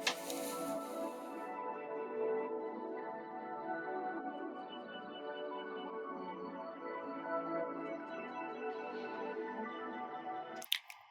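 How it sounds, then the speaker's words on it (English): Omnisphere underwater music box pad, widened with a Haas stereo effect in a nostalgic trap beat, a soft sustained shimmering texture that plays quietly and alone, then cuts off abruptly near the end. "Omnisphere, textures playable, underwater music box"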